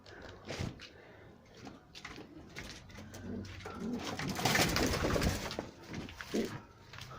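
Several pigeons coo repeatedly nearby in a bird keeper's loft, soft rolling calls overlapping with wing flutters and shuffling noises, rising to a denser cluster of cooing midway through.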